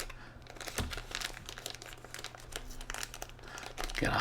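A plastic bag crinkles and rustles in sharp bursts while being struggled open during a camera unboxing, close and fairly quiet, with no talk.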